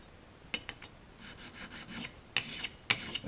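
A hard, flat honing stone rubbed across the surface of a Magna-Sine magnetic sine chuck for a grinder, giving short dry rasping strokes with a few sharper scrapes, close and fairly quiet with no talking.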